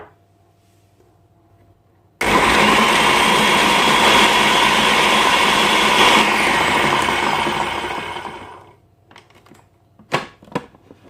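An electric chopper runs at full, loud power, whirring steadily for about six seconds as it chops ginger, garlic and green chillies. It then winds down, leaving a few short knocks.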